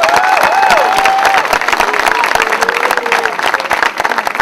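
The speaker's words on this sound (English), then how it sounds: "One more round of applause for them." Audience applauding loudly at a Boys & Girls Club event, with a dense burst of clapping, some cheering and a voice rising over the crowd.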